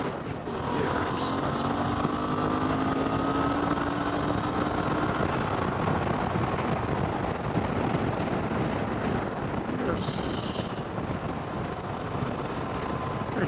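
Suzuki V-Strom 650 motorcycle engine drones steadily while riding along a beach road, mixed with heavy wind rush, with a faint voice now and then.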